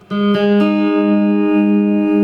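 Rosewood electric phin, a Thai lute, played through an amplifier with no effects: a few plucked notes ring out into a long, bright, sustained drone with rich harmonics, loud and close.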